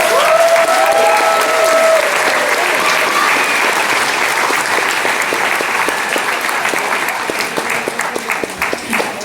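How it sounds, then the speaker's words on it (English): Loud, full applause from a commencement crowd cheering graduates, dense clapping with some voices mixed in, thinning into sparser individual claps toward the end. "Please give a round of applause for our Pathway Masters graduates."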